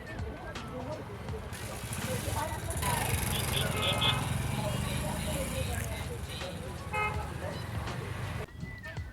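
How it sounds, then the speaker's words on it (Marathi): Heavy traffic rumbles along the Mumbai-Pune highway, with several car horns tooting in short bursts over a continuous engine and road roar, while a person talks over it. "खूप ट्रॅफिक असतो आहे या मुंबई पुणे हायवेला"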